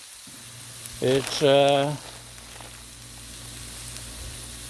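A hash of cauliflower, broccoli, carrot and green onion fries on a griddle with a soft, steady sizzle, while someone briefly speaks over it.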